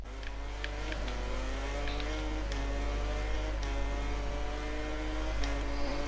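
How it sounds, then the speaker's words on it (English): Racing motorcycle engines from the MotoGP 19 video game, with a Ducati whining up from behind: steady high-pitched revving drone with rising gear-change sweeps, continuous and loud throughout. "I can hear a Ducati zooming in on me."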